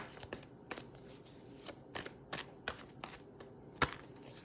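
A deck of cards is shuffled during a card reading, producing quiet, sharp riffling bursts and soft taps at an irregular rhythm, close and faint, with no talking.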